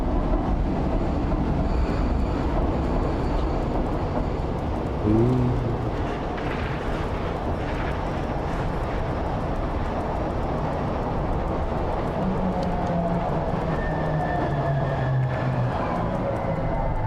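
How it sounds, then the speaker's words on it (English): A small subway train in the video game Stray runs steadily, giving a loud continuous rumble and rattle of wheels on track, with brief squealing tones partway through and no talk. "Quite a teeny tiny subway."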